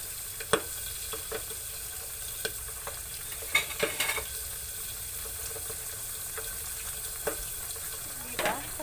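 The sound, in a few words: frying eggplant (talong) in a pan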